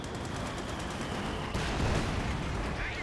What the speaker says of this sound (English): Mortar almost wiped out here by the heavy 50 cover fire there from the gunner on top